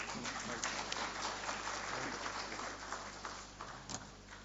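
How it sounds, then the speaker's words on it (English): Audience at a foundation day panel discussion applauds steadily, a dense wash of clapping that holds for several seconds, then softens toward the end. "Let's give them a huge round of applause"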